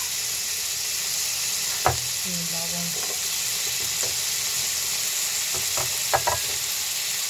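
Ginger sizzles steadily as it fries in margarine for goto, a close, even hiss broken by a few sharp clicks from stirring.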